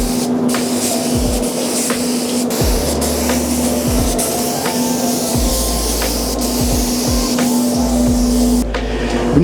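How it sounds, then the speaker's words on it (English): A spray gun lays primer onto a classic car's bonnet and boot lid in a loud, continuous hissing blast that runs almost unbroken, with a steady compressor-like hum beneath. "I'm gonna prime the bonnet and the boot lid for now."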